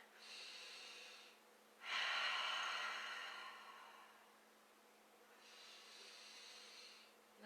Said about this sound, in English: Can add some breath, breathing in.